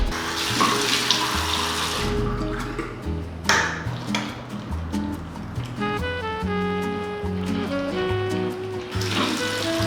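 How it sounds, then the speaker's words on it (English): Water runs steadily from a bathroom tap during face washing, a broadband splashing hiss loudest at the start and end, with music playing underneath. "I'm gonna wash my face"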